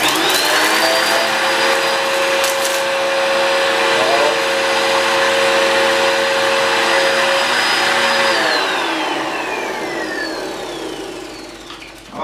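A value-range upright vacuum cleaner runs loud and close with a steady high-pitched whine, then its pitch slides down near the end as the motor winds down.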